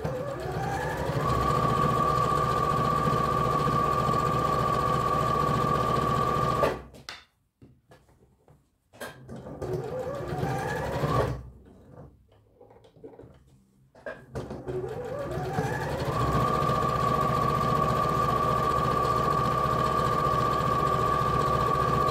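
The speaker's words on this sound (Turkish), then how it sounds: "Şu şekilde tersinden overlock'umun hemen dibinden dikiyorum." An overlock-style sewing machine stitches a tracksuit pocket from the reverse side: a loud, steady whirring run, a pause with light handling clicks and rustles, then the motor speeds up again into another sustained stitching run.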